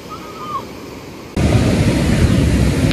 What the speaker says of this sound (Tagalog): Ayan yung beach nila. Masyadong mataas yung alon.